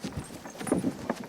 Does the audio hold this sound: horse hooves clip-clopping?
yes